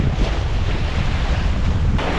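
Strong wind buffets the microphone on a sea shore during mackerel fishing, a loud, steady roar mixed with the wash of surf that continues throughout.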